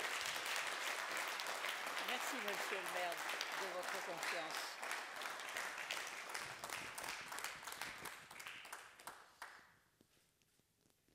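Applause at a municipal council session, a room of hands clapping steadily while a voice speaks over it, the clapping thinning into scattered claps and fading out near the end.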